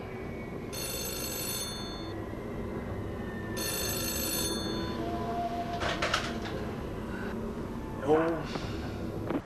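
An old-style telephone bell rings in two long bursts, clear and fairly close, in the middle of a Finnish crime drama scene, with people speaking around it and a faint bird coo near the end.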